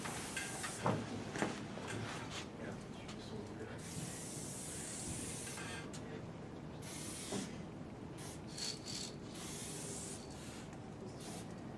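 Spray paint can hissing in bursts while outlining a graffiti piece in a school workshop, with short and long sprays separated by pauses and a faint rattle and light clatter in between.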